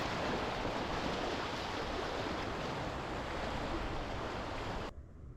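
Water of Toronto's Humber River rushes in a steady, close, broadband wash, heard alone without voices, before cutting off abruptly near the end.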